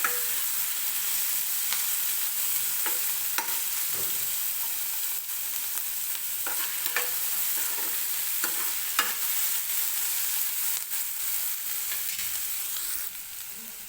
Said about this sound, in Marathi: टोमॅटो सुद्धा मऊ होईपर्यंत भाजून घ्यायचा आहे.